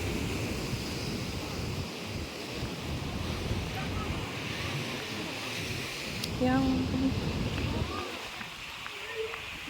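Steady roar of large surf and ocean waves crashing near a rock formation, under strong wind buffeting the microphone, with a faint voice briefly audible.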